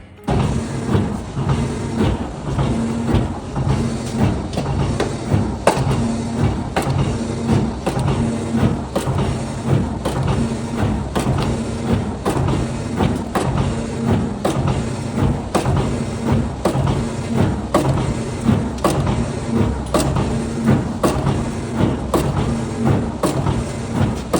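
STvega machine slicing frozen meat, a steady mechanical hum punctuated by rapid regular thumps and clicks as each cut is made, repeating evenly throughout.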